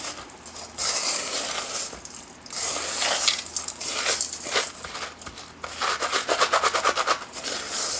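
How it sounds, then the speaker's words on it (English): Garlic and seasoning rub for homemade smoked bacon being mixed by hand, a continuous close rustling and gritty crinkling with rapid rubbing bursts near the end and no talking. "So just kind of mix everything together."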